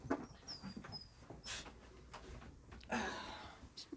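A dog whimpering softly nearby, with two thin high whines early on and breathy snuffles and rustling afterward, faint overall.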